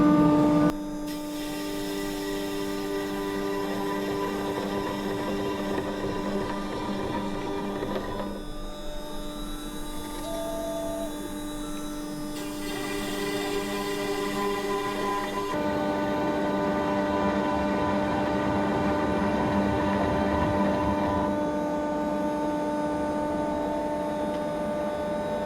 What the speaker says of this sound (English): I will start the dust collection.